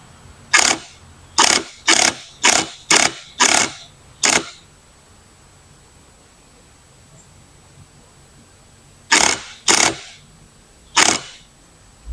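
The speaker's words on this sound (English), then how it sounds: "just light taps on the impact wrench works well" Short bursts from an impact wrench on the driveshaft bolts of a Toyota Tundra during a center support bearing replacement: seven quick taps in an even rhythm, a pause, then three more, loud and close with no talk.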